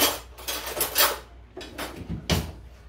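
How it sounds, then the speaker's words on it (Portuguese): Spoons and dishes clatter and clink in a home kitchen while salpicão salad is being made, a few short bursts of handling noise with brief pauses between, close and moderately loud. "deixa eu pegar outra colher para não sujar."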